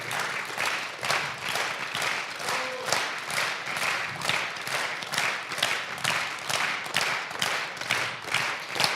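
A concert audience at a Kashubian folk show claps steadily for several seconds in a moderately loud, rhythmic, sustained round of applause, with no speech over it.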